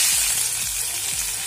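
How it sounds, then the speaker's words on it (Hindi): Chopped green chillies hiss loudly in a hot pan with turmeric for palak paneer. The sizzle is brief and continuous, close up, with no talking. "ये हरी मिर्च कट करके रख ली थी और ये हम ये डालेंगे इसमें।"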